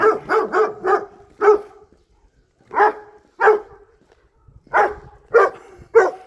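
A dog barks repeatedly near a fence, loud and close: a quick burst of four barks, a pause, then single barks and a final cluster spaced irregularly, with no talking over them.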